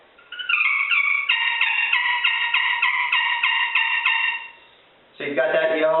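Yelps on a friction turkey call played with an Osage orange striker, a steady run of bright, raspy two-note clucks close up, followed by a brief pause and a short burst of a lower, rougher tone.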